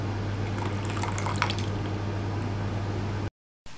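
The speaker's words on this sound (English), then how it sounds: "So now we've mixed in the coffee, we're going to top up to 600 millilitres." Water pours into a coffee-based Caffenol-C film developer mixture, topped up to 600 millilitres, giving a steady close liquid splash and trickle over a constant low hum, then cutting off briefly near the end.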